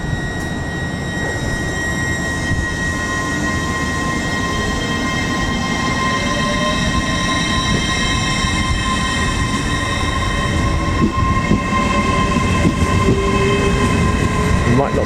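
A Class 800 train pulls away from Doncaster toward London King's Cross, a steady loud rolling rumble with rising electric whine and tonal hum building as it gains speed, heard close at trackside.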